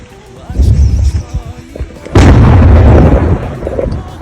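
A loud deep fireworks salute boom bursts out and rumbles on for a couple of seconds, following a stretch of quieter low crackling and thuds.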